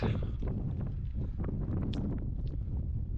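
Wind buffeting the microphone, a constant low rumbling roar that persists throughout.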